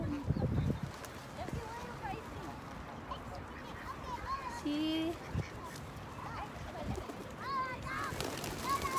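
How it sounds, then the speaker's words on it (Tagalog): A large flock of pigeons being fed outdoors, with scattered coos, calls and wing flutters mixed into the background while people talk nearby. "Ayan. Ang dami ng ibon."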